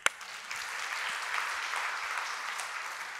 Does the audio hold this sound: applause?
yes